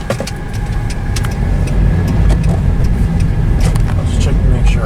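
A car driving with its engine running, a steady loud low rumble and road noise heard from inside the cabin, with faint clicks and rattles throughout and no clear talk.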